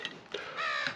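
A crow caws a few times in the background, harsh rasping calls at moderate distance, with no talking.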